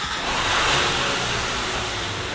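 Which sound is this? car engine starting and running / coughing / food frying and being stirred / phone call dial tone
car engine starting and running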